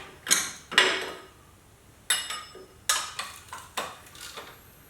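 Metal wrench clicks and clanks against the oil filter on a Harley-Davidson Milwaukee-Eight, a few sharp bursts spaced across the moment, close and moderately loud with no talk.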